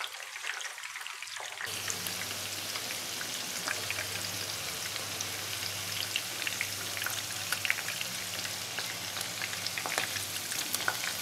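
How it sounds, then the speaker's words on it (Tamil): Chicken paneer kebabs fry slowly in oil over a low flame, giving a steady close crackling sizzle with scattered pops that starts abruptly and runs continuously without any talk. "மெல்லிய தீயில் மெல்ல மெல்ல வச்சு பொறுத்து எடுத்துக்கலாம்."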